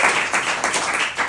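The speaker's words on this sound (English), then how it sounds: "Clap if you pray." Comedy club audience in North Hollywood clapping, a short, dense burst of many hands at moderate loudness with no talk over it.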